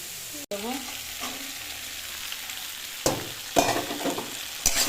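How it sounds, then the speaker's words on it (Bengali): Spices with turmeric sizzle steadily in hot oil in a pan before prawns go in, with scraping stirs and occasional louder clatter of a utensil against the pan. "আর হলুদ দিয়ে নাড়াচাড়া করবো। একটু ভালো করে ভাজা হয়ে যাও"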